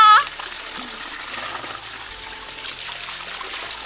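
Water trickles and splashes steadily during bathing, a continuous close wash of splatter and dribble filling the clip after a brief opening sound.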